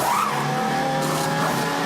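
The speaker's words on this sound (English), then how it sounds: "This is a full tire change and fuel up currently." A modern race car at a pit stop for a full tire change and refuelling produces a steady, loud mechanical roar with a brief squealing sweep at the start.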